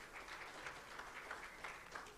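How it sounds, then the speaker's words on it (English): A faint, distant round of applause rolls on evenly from an audience at a Power Learn Project event honouring a Kenyan government representative, with no speech over it. "give her a round of applause"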